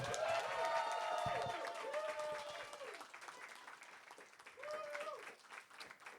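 A crowd applauds to vote for a contest winner, with steady clapping swelling and fading across the room. A voice speaks over it, with some cheers mixed in.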